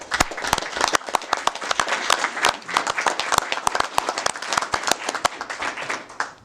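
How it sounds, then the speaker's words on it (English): A small group claps at a Pasco city council meeting, with distinct individual claps in an uneven, sparse rhythm, close and fairly loud, continuing for several seconds. "A round of applause for that."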